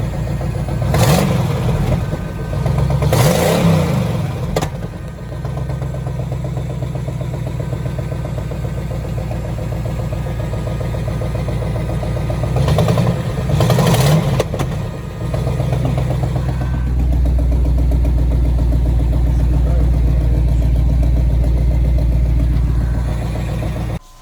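A V8-swapped S10 truck running on Holley Sniper EFI, a steady close idle with two sharp throttle blips and revs early and midway, then a deeper, louder settled rumble toward the end.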